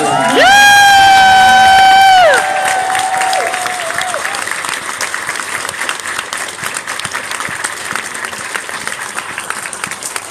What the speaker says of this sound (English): give the biggest, loudest round of applause to our hotel staff